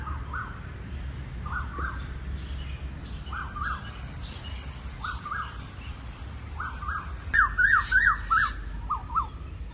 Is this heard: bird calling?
yes